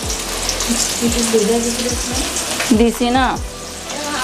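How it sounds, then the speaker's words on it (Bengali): Chips drop one by one into hot oil, each setting off a loud, close sizzling burst over a continuous frying hiss, with a brief spoken remark partway through. "তেলটা আমি ভালো করে গরম করে নিছি এখন এক এক করে আমি এগুলো ছেড়ে দিব"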